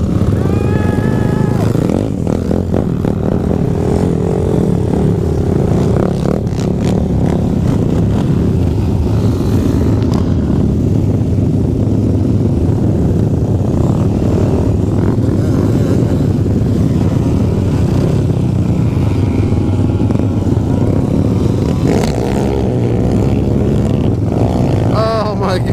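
A Honda ATC 200X three-wheeler revs hard through a long wheelie on the dunes at a dunefest, its engine a loud, steady drone that fills the whole stretch. Wind and other machines blur into it, with voices in the background.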